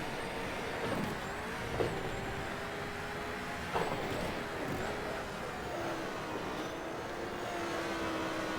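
Group C prototype race car in the sim racing game Automobilista, its engine droning steadily through a lap with shifting pitch and a couple of brief louder bursts, no talking.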